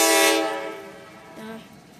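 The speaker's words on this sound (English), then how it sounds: "That's a long train." A Norfolk Southern freight train passes close by, its horn sounding loudly at first and then fading into a sustained rumble of rolling cars with harmonic tones lingering.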